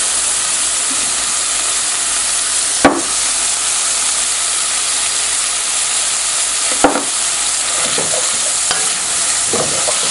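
Sliced mushrooms and onion fry in a pan with a loud, continuous sizzle and steam hiss, broken by a few scraping strokes of a spoon stirring the mixture.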